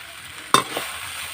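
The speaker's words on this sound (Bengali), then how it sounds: "একবারে মশলা দিয়ে চালটা কষে নেব ভালো করে।" Rice fried and stirred with spices for Bengali khichuri gives one sharp scrape of a spoon against the pot over a soft, steady sizzle, close and brief.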